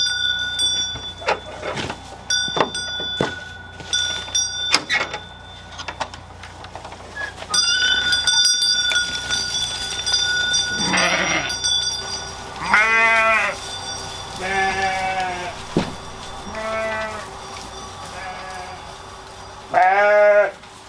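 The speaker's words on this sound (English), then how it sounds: "that's our sheep all fed and let out for the day" Several sheep on a summer farm in central Portugal bleat loudly and repeatedly, close by and overlapping, with scattered clatter and rustling between the calls.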